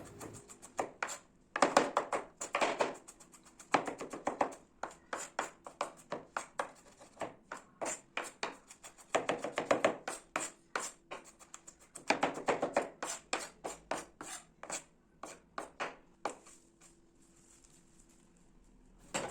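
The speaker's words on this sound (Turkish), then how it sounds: "Yine sarımsakları da gelişi güzel doğruyorum." Garlic cloves are roughly chopped on a board with a knife for a red capsicum pepper pickle, giving steady runs of crisp, close taps in quick bursts with short pauses between them.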